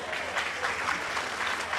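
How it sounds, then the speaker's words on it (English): Cruise ship passengers clapping, a short stretch of steady, moderately loud applause from a group, with a slightly pulsing rhythm and no speech over it. "They're clapping now,"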